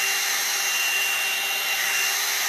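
A Le Volume Petit 2-in-1 volumizing brush dryer runs close by with a constant, even whirring blower hiss and a faint steady whine, holding unchanged throughout with no voices.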